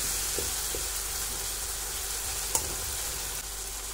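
Masala for baingan bharta fries in oil in a pan, a close, steady sizzle with a few soft spoon taps and one sharp clink partway through.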